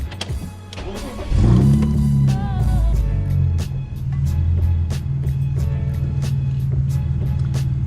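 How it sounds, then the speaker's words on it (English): A tuned, naturally aspirated BMW E46 engine cranks and fires up, then settles into a steady idle with a rhythmic ticking, close and loud. "Now the only thing left to do is just fire up the car"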